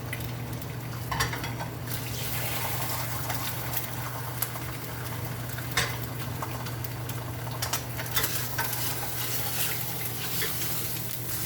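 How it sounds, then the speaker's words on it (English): An egg fries in a pan for a breakfast sandwich, giving a soft, steady sizzle with faint crackles and a low hum underneath, moderately quiet and continuous. "All we're doing is cooking an egg."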